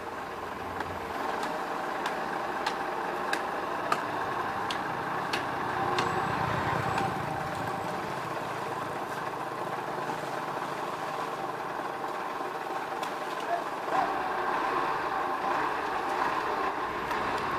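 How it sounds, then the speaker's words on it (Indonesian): A sugarcane railway locomotive at the PG Semboro mill runs along a trial lori line toward Sukoreno, giving a steady, moderately distant engine rumble with faint rhythmic clatter that holds throughout without a break. "Nah, lokomotif melanjutkan perjalanan."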